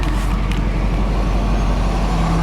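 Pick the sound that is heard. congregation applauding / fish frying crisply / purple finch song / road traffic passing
road traffic passing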